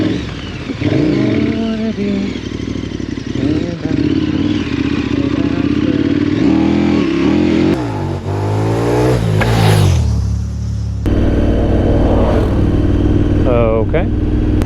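A KTM 1290 Super Adventure motorcycle ridden along a mountain bike singletrack, its engine rumbling and revving up and down close by, with people talking over it throughout.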